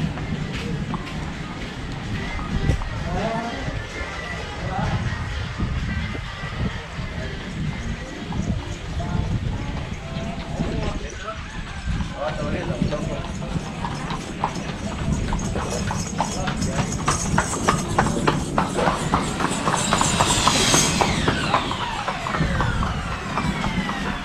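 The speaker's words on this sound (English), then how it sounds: "you have a horse cart" A horse-drawn cart clip-clops steadily along a road on Gili Air island, hooves beating in a continuous rhythm with wheels rolling, while distant voices and street ambience carry on around it.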